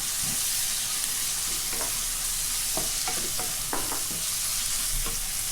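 Bamboo shoots and egg sizzle steadily as they stir-fry in a hot pan, with occasional scraping and clinking of a utensil stirring, close and continuous.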